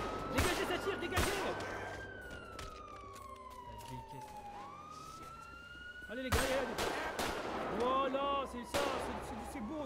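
Gunfire in a video game heist, sharp broadband bursts popping out in a few clusters over wailing police sirens and a steady game soundscape, with voices talking throughout.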